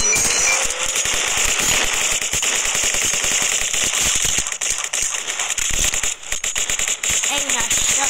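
Rapid AK-47 automatic gunfire in the Roblox game Jailbreak, dense crackling bursts running almost nonstop with brief gaps, loud and close over a steady hiss, with voices talking underneath.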